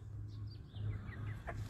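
Chickens with colds and a rooster cluck softly nearby, a few short low calls and brief higher squawks over a quiet background.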